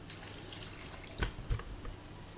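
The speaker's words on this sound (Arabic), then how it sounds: "نصبوا عليها الكاس ماء" Water poured from a glass over a Tunisian potato tagine with beef, heard as a short splashing pour with two brief bursts of liquid over a quiet background.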